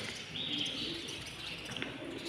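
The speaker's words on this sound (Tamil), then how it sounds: "சிட்டுக்குருவி அது." A sparrow chirps amid pigeons cooing outdoors, brief bright tweets over a low murmur of birds and ambient noise.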